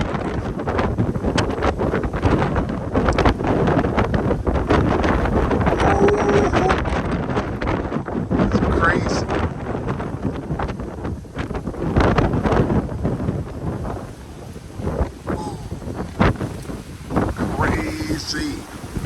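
Storm wind gusts around a solid house in Vietnam, roaring and buffeting the microphone loudly and without pause.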